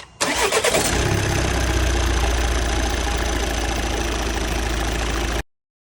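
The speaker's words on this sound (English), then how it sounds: "someone's gonna start up the car" A 2014 Volvo S60 D4 2.0 diesel cranks for a moment, then fires and runs at a steady, loud, close-up idle with a clattering diesel tone before cutting off abruptly.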